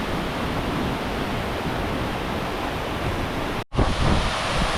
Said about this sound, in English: And then there's this cascade here.